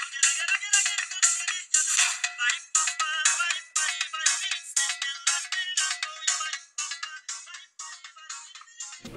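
A ringtone melody plays through the small built-in speaker of a Xiaomi Vidlok W91 1080p webcam, thin and bright with no bass, in short repeated bursts heard close with no voices.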